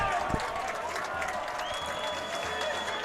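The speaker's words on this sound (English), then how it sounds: "just got the crowd pumped up" A packed stand at a high school varsity football game, Fenwick against Brother Rice, roars and claps in a steady, dense wall of cheering that fills the whole moment, with an announcer's voice partly mixed in.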